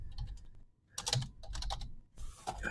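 Rapid typing on a computer keyboard, close and fairly quiet, in uneven bursts of clicky keystrokes separated by a short pause.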